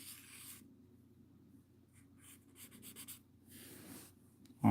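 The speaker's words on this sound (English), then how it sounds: "And I like to draw these fruit bowls." Pencil drawing a fruit bowl still life on sketchbook paper, faint scratchy strokes in short irregular bursts, close and quiet, ending in a sudden louder knock.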